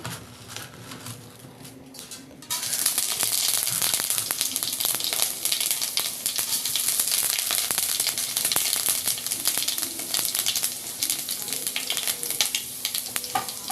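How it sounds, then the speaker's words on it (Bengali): Panch phoron, a five-spice mix, hits hot oil in a kadai and bursts into a loud, steady sizzle after a quieter start, crackling evenly to the end. "তেলটা গরম হয়ে গেছে। এবার আমি এখানে দিয়ে দেব 5 ফোড়ন।"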